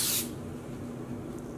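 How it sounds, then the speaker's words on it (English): A single short hiss of food coloring mist sprayed onto yarn bursts out at the start, then fades into quiet room tone. "spraying it with this alcohol mixture"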